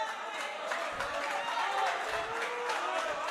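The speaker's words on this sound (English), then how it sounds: "You can hear the tension in the crowd as they cheer on their home favorite." Crowd at a men's singles racquetball quarterfinal at the Pan Am Championships cheering and clapping in a large hall, a steady wash of voices with a few stamping bursts, moderately loud and without a clear announcer.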